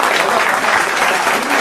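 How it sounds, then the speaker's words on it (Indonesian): Audience applause at a Karang Taruna youth organization scholarship event, a dense, loud, even wash of clapping from many hands, sustained without pause. "tepuk tangan"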